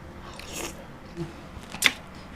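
Someone bites and chews soft, hot braised pork leg stewed for four hours, with a few quiet, wet chewing and biting sounds close to the microphone and no talking.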